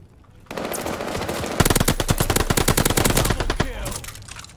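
Rapid bursts of automatic machine gun fire in a video game, loud and close, with a sharp rhythmic rattle that starts after a short quiet lead-in and runs for several seconds before tapering off.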